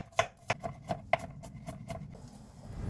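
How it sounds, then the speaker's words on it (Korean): A knife minces sliced garlic on a cutting board, a handful of quick, crisp taps in an uneven rhythm, close and fairly quiet, then fading to soft rustle. "마늘은 편 썰어서 곱게 쪼사줍니다."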